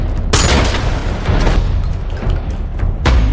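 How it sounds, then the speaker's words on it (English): Gunfire in a violent film scene where a gunman shoots down a robbery crew: heavy booming shots at the start and near the end, with rumbling action noise between, loud and close. "H continues to fire with precision, quickly taking down the entire robbery group"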